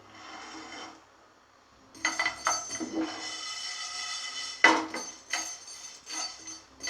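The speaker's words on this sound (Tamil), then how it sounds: "கருவேப்பிலை ஒரு 2 ஆறு, அதை போட்டு லைட்டாக வறுத்து எடுத்துக்குவோம்" Fenugreek seeds and curry leaves being lightly roasted in a pan, a dry rasping stir with scrapes and a sharp clink, close and moderate, with a quieter pause before the stirring picks up.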